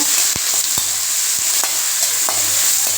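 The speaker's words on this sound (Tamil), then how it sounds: "இப்போ இது வெங்காயம் நல்லா வதங்கட்டும்" Onions sauté steadily in hot oil for mutton curry, a continuous bright crackle with occasional soft clicks of a spoon stirring the pan.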